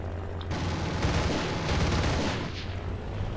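An aircraft fires rounds at a ground target in the video game War Thunder, making a dense, rumbling burst of rapid cannon fire that swells for a couple of seconds over a steady engine drone, loud and without voices.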